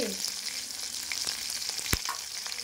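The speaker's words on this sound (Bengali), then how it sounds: "একটু ফোড়নটাকে একটু নাড়িয়ে চাড়িয়ে দেব" Slit green chillies and a tempering in hot oil being stirred, a close crackling sizzle with a few sharp pops and one loud spatter.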